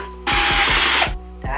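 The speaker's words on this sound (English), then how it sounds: "Now I have to drill the holes." A power drill bores holes in a roller skate built from an Adidas shoe, a loud close-up burst of whirring lasting under a second, with a faint rhythmic thumping underneath.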